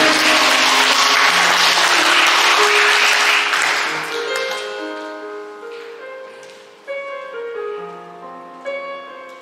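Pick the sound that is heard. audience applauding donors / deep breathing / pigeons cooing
audience applauding donors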